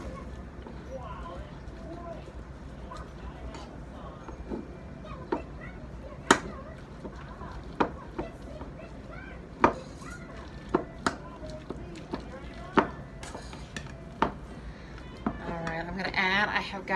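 A spoon works shredded chicken and mayonnaise together in a bowl for a simple chicken salad, giving irregular sharp clacks and scrapes against the dish. A voice murmurs faintly in the background.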